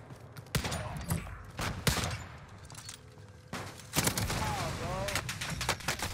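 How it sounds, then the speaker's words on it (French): Gunfire in the video game Warzone crackles in bursts and single sharp shots, some close and loud, others more distant, while someone talks over the firefight. "Ça me tire dessus de la hauteur."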